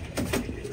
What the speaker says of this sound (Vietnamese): Còn đây là con chim bồ câu con này.